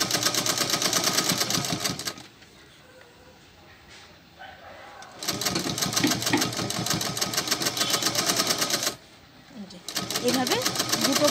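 A sewing machine stitches together the fabric pieces of a pink teddy bear, running loud and steady in two long bursts with a quieter pause between, while a person talks over it.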